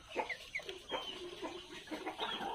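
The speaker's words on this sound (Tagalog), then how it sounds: "ito yung natitira natin Brahma na sisiw" Two-month-old Brahma chicks making a run of soft, close clucks and short chirping peeps, irregular and overlapping, kept at a moderate level with no talking.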